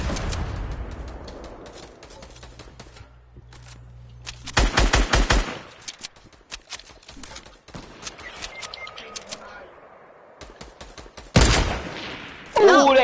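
Gunfire in a shooter video game: scattered single shots and short automatic bursts at varying distances, with a few loud close volleys and quieter stretches of game ambience in between, no voices.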